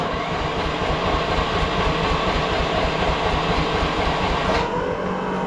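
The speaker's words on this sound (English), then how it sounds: "let's see if the mini excavator wants to start" A mini excavator's engine runs on a cool day after starting, a loud, close, steady diesel rumble with a fast rhythmic chug and no talk over it.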